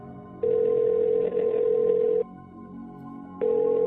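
Telephone ringback heard through a handset on an outgoing call: two long steady electronic rings separated by a pause, the second starting as the clip ends, clear and close with no talking.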